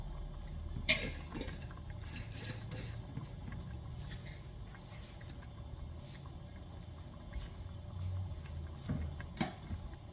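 Liquid pouring and splashing into a cooking pot of spicy sausage rice, faint and close, with uneven sloshing and a few sharper knocks throughout.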